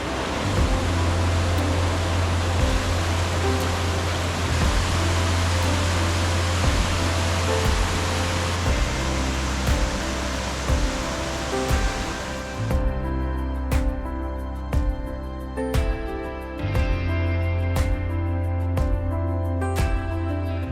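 Rushing waterfall at the top of the falls in Killarney backcountry, a loud steady broadband roar of falling water with scattered clicks and knocks; after about twelve seconds the roar drops away to a quieter wash with distinct ticks.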